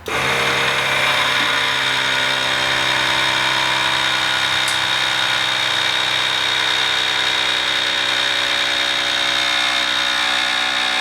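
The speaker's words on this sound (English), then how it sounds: "then we're gonna turn on the bike so that way we can see if there's any bunching of cables" A Harley-Davidson M8 Softail motorcycle with air-ride suspension idles steadily after being switched on, a continuous close engine hum with even harmonic drone throughout, no talking.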